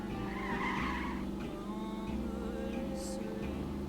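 A car engine in the video game The Saboteur: a steady drone with harmonic whine and shifting pitch, tires briefly squealing, all loud and continuous without speech.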